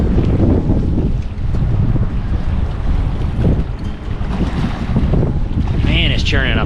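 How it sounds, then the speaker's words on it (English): Strong wind buffets the microphone on a lake during an April wilderness canoe trip in the Tobeatic Wilderness Area, Nova Scotia, a loud continuous roar with gusts and choppy water, briefly joined by a whistling tone near the end. "Oh, the wind."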